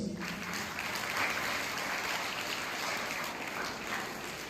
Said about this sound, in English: Let's all give a big round of applause to welcome our chief guest.